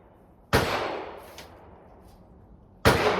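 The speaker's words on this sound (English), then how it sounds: "shooting a 338 Lapua Magnum. First round, dead on target" Two sharp, loud gunshots from a .338 Lapua Magnum rifle at an outdoor range, a couple of seconds apart, each a hard crack followed by a booming, slowly fading echo.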